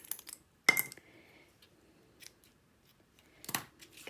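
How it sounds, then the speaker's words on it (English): Scissors snip through card stock for a paper craft fold card, two sharp close cuts spaced a few seconds apart with quieter rustling of the paper in between. "So let's just snip that off."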